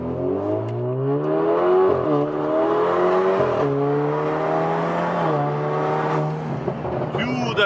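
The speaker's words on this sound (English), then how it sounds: "Turbo sounds really nice, huh? Yes, sir. Yeah, the pops." Tuned Alfa Romeo Giulia with a turbo engine revving hard, its rising and falling engine tones holding steady and loud throughout, with a burst of crackle near the end; voices talk over it.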